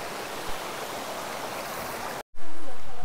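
A stream beside a huge waterfall in the Lunarejo Valley gives a loud, steady broadband rush, with a brief cut-out before the roar returns even louder.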